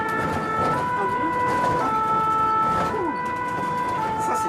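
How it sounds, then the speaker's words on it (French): A fire truck siren wails, rising and falling repeatedly over the steady rumble of the truck, loud and close, with a voice briefly audible underneath. "Tu veux qu'on mette la sirène pour aller plus vite?"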